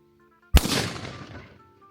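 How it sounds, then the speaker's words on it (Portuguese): A single sharp shotgun blast goes off during a thrush hunt in Moura, loud and close. It is followed by a rolling echo that fades over about a second, with faint birdsong before the shot. "Primeiro tiro, primeiro abate."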